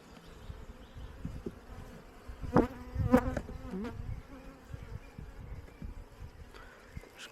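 Honeybees buzz around a hive, a soft steady hum with a few louder bees droning close by for a moment.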